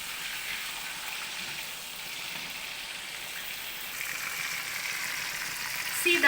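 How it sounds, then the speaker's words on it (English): Prawns fry in a pan with a steady, even sizzle that holds at moderate loudness, with no voices over it. "Prawns change color the moment you fry it."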